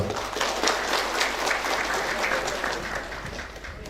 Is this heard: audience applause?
yes